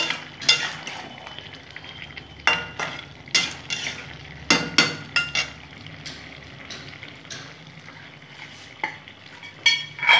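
Lentil dumplings (bori) are stirred in a pan for a vegetarian dish: irregular scrapes and clinks of a spoon against the pan come in bursts over a soft, steady sizzle, close by with no talking.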